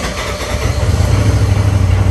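A Polaris RZR Turbo S side-by-side, bought at auction and showing an engine light, cranks and catches, settling into a loud, close, steady low engine rumble with no talking.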